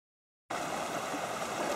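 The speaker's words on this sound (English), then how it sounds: "Creek running, there's some deep holes." Laverkin Creek runs through a sandstone canyon, a steady, even rush of flowing water starting abruptly after a brief silence, faint and continuous with no talk.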